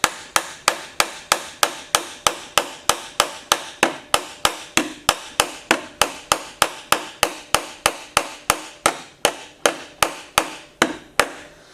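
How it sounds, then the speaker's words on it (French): A hammer strikes steadily and rapidly, about three blows a second, cold-peening and flattening the washer of a decorative trunk rivet, each sharp metallic tap close and distinct with no talk. "on va en fait tenir le marteau à l'arrière. Et en même temps, on va venir mater"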